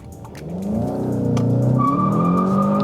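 A 2020 Volkswagen Jetta GLI launches hard off the line with traction control disabled. The engine revs climb steadily while the front tires squeal in a sustained, loud, close-up whine, and no one speaks.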